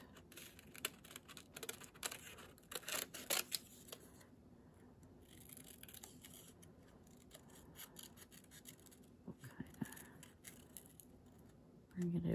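Scissors cutting out a sketched fairy shape from paper, a loose scatter of soft close snips and rustles, busier at first and then sparser.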